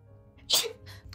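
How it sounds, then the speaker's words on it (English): A single quick sneeze bursts out close to the mic, fairly quiet, over a low rumble of wind. "I'm gonna sneeze"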